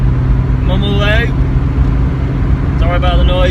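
VW Corrado VR6 twin-turbo driving on the road, a low, rumbling engine drone with road and cabin rattle throughout, loud and steady, while someone talks over it.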